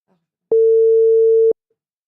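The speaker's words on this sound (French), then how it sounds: "Là, t'entends la sonnerie?" Single steady electronic tone of about one second heard through a phone call, starting and stopping cleanly and standing alone in quiet, a ringback signal while waiting for the other end to pick up.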